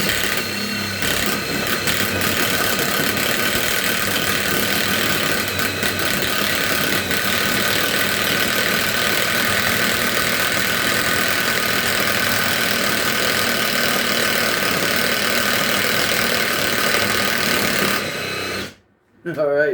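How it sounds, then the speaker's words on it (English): A Milwaukee 2854-20 Fuel impact wrench runs with an adapter in a loud, continuous, close whirring drone that lasts for most of the stretch and then stops abruptly, with a short buzz returning just after. "let's see what this impact wrench can do with our adapter"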